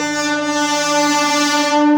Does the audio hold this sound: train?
yes